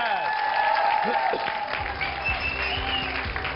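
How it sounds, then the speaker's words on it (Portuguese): Loud applause from a crowd, a steady wash of clapping with a few scattered voices over it. "Podem estender esse aplauso para o imparável Alexandre Dias!"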